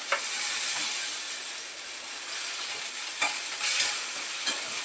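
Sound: garlic, ginger and coriander being sautéed

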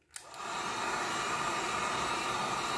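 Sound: heat gun or hair dryer heating a pickguard

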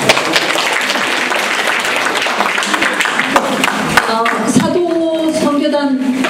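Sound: audience applause

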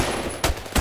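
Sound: gunfire in the video game Roblox Phantom Forces

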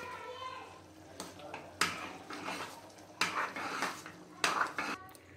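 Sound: stirring sambar rice in a cooking pot

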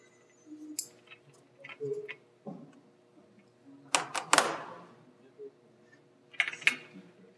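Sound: automatic transmission solenoid clicking during testing

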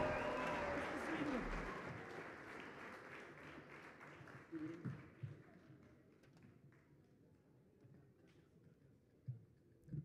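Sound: audience applause

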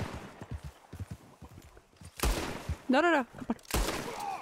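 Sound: gunshots in Red Dead Redemption 2 video game

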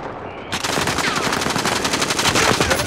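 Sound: gunfire from a rooftop, from the video game Call of Duty: Modern Warfare

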